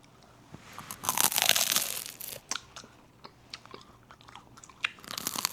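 Crunchy bites into nut-covered ice cream, a loud crackling burst near the mic followed by repeated smaller crunches and chewing, close and alone without talk.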